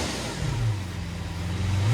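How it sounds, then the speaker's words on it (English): Naturally aspirated 6.5-liter V12 of a Lamborghini Veneno Roadster revving, a loud, dense, continuous engine roar with a rising pitch and no talk over it. "The engine produces a raw, unfiltered soundtrack with aggressive overrun pops"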